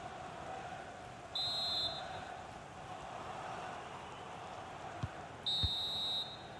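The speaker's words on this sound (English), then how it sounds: "And there it is, the final whistle, a result to please Manchester United fans around the world." A referee's final whistle in an EA Sports FC 24 Premier League match between Wolves and Manchester United sounds as two short shrill blasts a few seconds apart over steady crowd noise.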